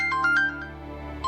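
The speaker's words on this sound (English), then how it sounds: "Answer the phone already." A phone ringtone plays a bright, tonal melodic chime at night, with a quick run of notes, a brief dip, and then the tune starting again, loud and clear with no talking.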